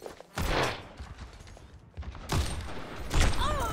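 Several sharp sniper rifle shots in Overwatch 2 spaced out over a few seconds, each with a crack and short mechanical rattle, loud and close.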